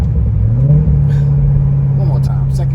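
Corvette C6 fitted with Kooks headers, X-pipe, Halltech Killer Bee intake and Corsa Extreme exhaust, tuned, accelerating in second gear: a loud, steady low engine drone that swells slightly as it pulls, with faint traffic noise behind.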